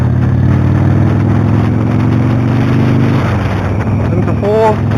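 A motorcycle engine revs steadily, then drops pitch partway through as the rider changes gear. Someone talks over the continuous engine drone.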